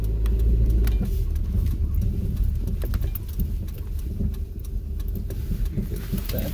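A car reversing out of a parking spot gives a steady, close engine rumble with faint crackling road noise throughout, and no one speaks.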